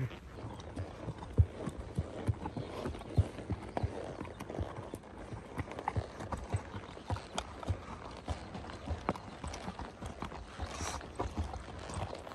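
A horse, a mare named Irian, walking on a morning ride in Cappadocia, Turkey, her hooves giving soft, fairly faint irregular clip-clops over an outdoor ambience, with no speech.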